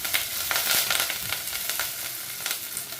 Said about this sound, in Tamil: இப்போ வெங்காயம் வதங்கி கொண்டிருக்கே